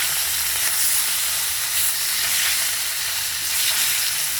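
Bhola fish sizzling as it fries in a pan, a steady close crackling hiss that runs through without pause and with no voices.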